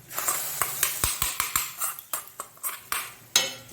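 A spoon scrapes and taps rhythmically against a pan while veg sukka is stirred, giving quick close clinks and scraping strokes that repeat about every half second, loud and alone.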